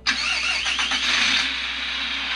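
A Tamiya MFC-03 unit in a radio-controlled car kicks back into its motor sound after a restart, a sudden close whirring and rumbling burst that holds steady and loud throughout, with no talking.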